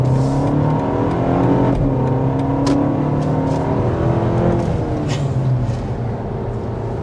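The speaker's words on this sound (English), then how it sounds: "so I went into sport mode to show that off a little bit." A 2025 BMW X1 accelerates in sport mode, heard from inside the quiet cabin as a loud engine drone with rising pitch that drops back at each gear change before climbing again, with no talking.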